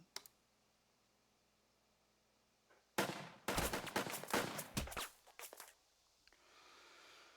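Gunfire in the tactical war game Burden of Command: after a near-silent lead-in, a loud burst of shots erupts, a cluster of sharp cracks and rattling volleys lasting a few seconds before fading to quiet ambience.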